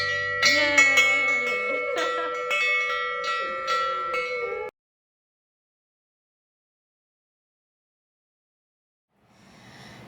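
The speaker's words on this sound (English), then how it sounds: "ring that bell, girl" A handheld bell is rung repeatedly in a celebration after breast cancer treatment, with close, bright strikes over a sustained ring for several seconds. Silence follows, then faint cheering at the end.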